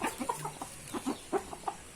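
Free-range village chickens cluck softly nearby, a string of short, separate clucks scattered over a quiet background.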